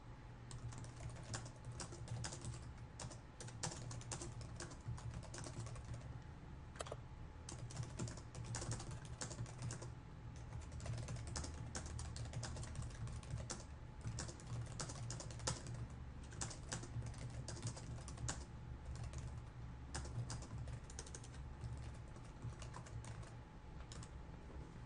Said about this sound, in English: So I've just typed a little sentence here